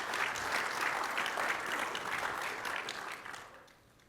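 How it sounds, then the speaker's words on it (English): A conference audience gives a round of applause for a presenter, steady crowd clapping that holds for about three seconds and then fades toward the end, with no speech over it. "Big round of applause for Madan."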